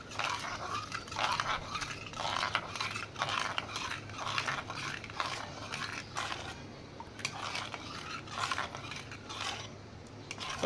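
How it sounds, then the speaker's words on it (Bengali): A spoon stirs salt into a sherbet made from roasted raw mango, giving repeated light clinks and scrapes against the glass in an uneven rhythm, close and fairly quiet. "দিয়ে ভালো করে চামচ দিয়ে গুলিয়ে নেব"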